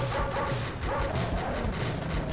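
Dog barking in the video game N.A.R.C., quick repeated yips and barks buried in dense, loud game noise and music.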